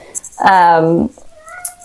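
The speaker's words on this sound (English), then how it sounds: "So if you hear my cat meowing" A pet cat meows loudly and close, one drawn-out harmonic meow, shut out behind a closed door and wanting to be let in, with faint household noise around it.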